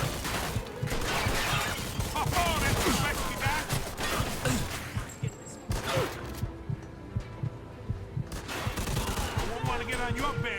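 Gunfire in the crime shooter Mafia 2 as goons are fought off: dense, overlapping bursts of shots run almost continuously, loud and close, easing briefly in the middle before the volleys resume, with voices mixed underneath.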